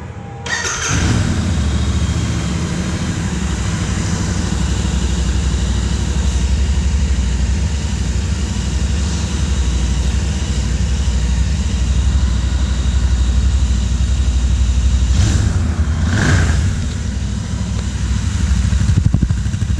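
BS6 Royal Enfield Continental GT 650 motorcycle idling with a steady, deep exhaust thrum heard close and loud for the whole stretch, with a couple of brief sharper blips near the end.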